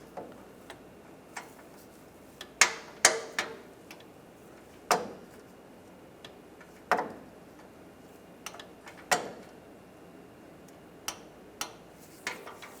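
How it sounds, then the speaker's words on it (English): A torque wrench tightens O2 sensor bolts on a 1996-2002 Toyota 4Runner, producing scattered sharp ratchet-like ticks and clicks at irregular intervals against a quiet background. "And torque those bolts to 13 foot-pounds"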